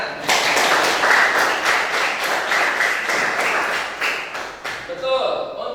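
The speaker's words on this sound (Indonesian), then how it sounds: "beri tepuk tangan." Classroom of students clapping together: loud, steady, fairly close applause with a brisk shared rhythm, ending abruptly as a voice begins to speak.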